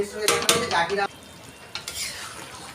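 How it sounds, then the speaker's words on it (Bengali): Fried tengra fish go into a bubbling curry with brinjal and are stirred, giving a loud burst of sizzling and scraping in the pan for about a second, then quieter stirring with a few brief clinks. "এবার এই ভাজা মাছগুলো দিয়ে দেবো"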